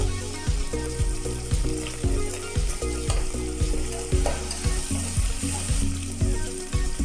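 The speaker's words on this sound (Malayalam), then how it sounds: "നമുക്കിതിലേക്ക് അരിഞ്ഞു വെച്ച തക്കാളി ഇട്ട് കൊടുക്കാം" Chopped tomatoes fry with sautéed onions in a pan, a loud continuous sizzle broken by regular rhythmic scraping strokes of stirring, close and steady; no speech.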